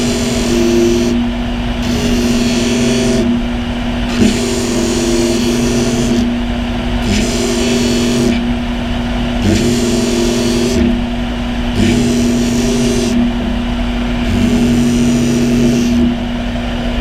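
A bench grinding wheel beveling a metal part for a Daihatsu kei car repair: a steady, loud whine and grinding that rises and falls in regular passes as the part is pushed against the wheel, continuous for the whole stretch.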